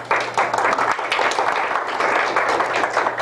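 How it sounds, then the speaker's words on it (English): An audience at a teaching presentation gives a short round of applause, a moderate, even patter of many hands clapping that lasts about three seconds. "Let's give a round of applause."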